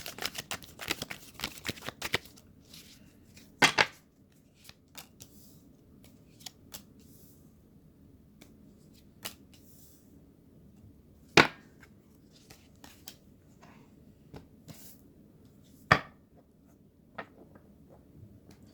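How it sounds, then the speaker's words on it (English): Tarot cards being shuffled close up: a quick riffle of rapid clicks at the start, then occasional sharp snaps and soft slides separated by quiet gaps. "I'm just going to give a few more shuffles here"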